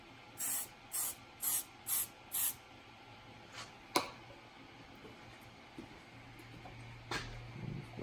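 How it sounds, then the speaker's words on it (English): Hairspray is sprayed onto the intake piping of a supercharged Ford Mustang in five quick, evenly spaced bursts, followed by scattered clicks and light handling noises in a quiet workshop. "Give it a little bit of hairspray."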